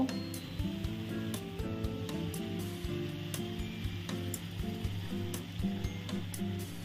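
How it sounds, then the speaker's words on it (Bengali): Water poured into a hot pan of potato and beetroot cooked with a little oil, salt and turmeric sets off a steady, close sizzle, with light clicks and scrapes throughout. "যে বাটিতে বিট রেখেছিলাম ওটা ধুয়েই জলটা দিলাম"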